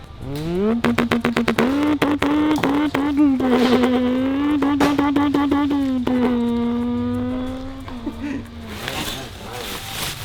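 A Lamborghini Huracan fitted with an F1-style exhaust revs hard nearby, a loud sustained high-pitched engine wail holding steady for several seconds after sharp blips, then dropping away, with people talking faintly.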